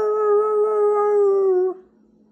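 A single sustained dog howl, loud and close, holding a steady pitch for nearly two seconds before cutting off into quiet.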